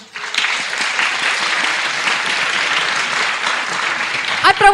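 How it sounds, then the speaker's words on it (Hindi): A church congregation at a year-end fasting prayer service breaks into loud, sustained clapping from many hands that fills the space evenly for several seconds. A voice rises over it near the end. "प्रभु को जोरदार ताली बजा सकते हैं।"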